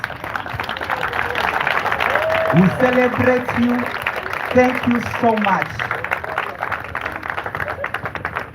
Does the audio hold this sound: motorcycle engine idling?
no